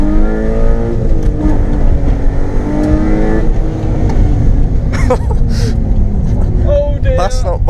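A straight-piped BMW E36 with a swapped-in M52 2.8 engine pulls hard at full throttle, a loud, continuous rasping drone climbing in pitch from inside the car, with voices talking over it toward the end.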